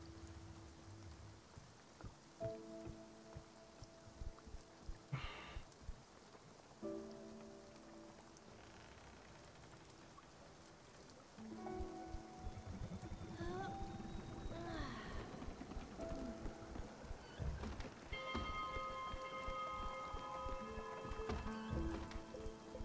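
Rain patters steadily in the video game Spiritfarer, a soft continuous wash under game music tones that grows denser in the second half, with faint talking in places.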